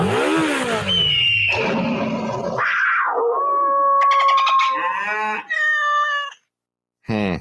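Sound effects performer vocally imitating a motorcycle ride for a Progressive motorcycle insurance radio ad: rising and falling revving whines, sputters and strained engine-like tones, loud and close, broken by a short pause near the end.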